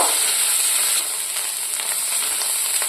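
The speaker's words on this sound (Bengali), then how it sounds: "এর মধ্যে দিয়ে দেব পেঁয়াজ বাটা। পেঁয়াজটা আমি ভাজা ভাজা করে নেব।" Onion paste fries in oil with whole garam masala, giving a steady, close, hissing sizzle that barely changes throughout.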